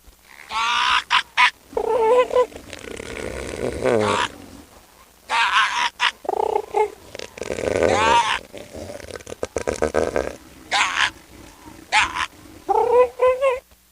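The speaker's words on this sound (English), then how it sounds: "It turns out elephant seals just sound like evil chickens." An elephant seal gives repeated loud, harsh, honking bellows in bursts with short pauses between them, sounding close and guttural.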